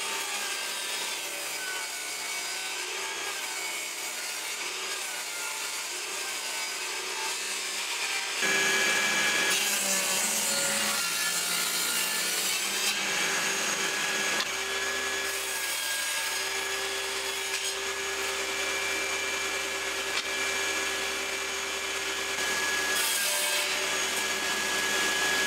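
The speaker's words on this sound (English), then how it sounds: "I'm going to get to the back to the table saw and rip some bits down to go in here" A table saw ripping thin wooden slats, a continuous loud whining hiss of the blade cutting wood that shifts in pitch as boards feed through, running steadily without pause.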